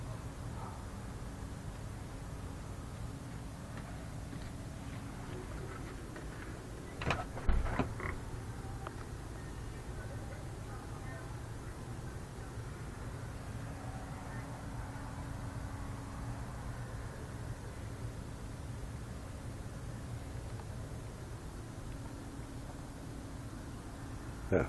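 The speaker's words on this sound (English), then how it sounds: "That humming, shit, man, it just goes all the way through this property from the front to the back, man." A steady low hum runs through a property near a Publix in Lakeland, Florida, a constant drone lying under faint background noise, with one brief knock about a third of the way in.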